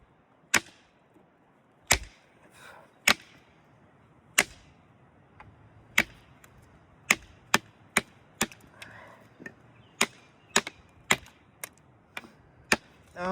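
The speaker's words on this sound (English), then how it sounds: "I would say you're not really chopping with this thing." A handmade D2 steel fixed-blade tracker knife chops into wood in a series of sharp, isolated strikes at an irregular pace, each a loud close crack with short gaps, with no voices.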